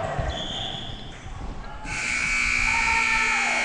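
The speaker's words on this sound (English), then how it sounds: "I think there was a whistle blown before the buzzer sounded." A loud, sustained electronic buzzer sounds at a basketball game from about two seconds in and holds steady to the end, over crowd noise and arena din.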